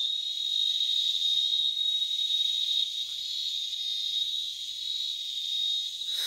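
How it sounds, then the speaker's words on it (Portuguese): Cigarrito, a small cicada, singing in a garoba tree, a loud, steady high-pitched drone that holds without pause, close and clear over quiet surroundings. "O cigarrito está nesse pé da garoba aqui, estão cantando com força, viu?"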